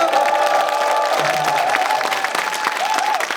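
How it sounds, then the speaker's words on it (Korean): A live talk-show audience in Yongin applauds with cheers and whoops, the continuous clapping full and loud throughout. "박수."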